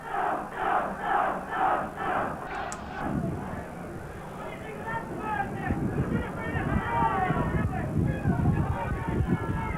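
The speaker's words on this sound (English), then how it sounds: "And crowd really trying to lift them now." Rugby league crowd at Workington Town v Salford in 1995 roaring and chanting in rhythmic surges, then a broader swell of noise with a commentator talking over it.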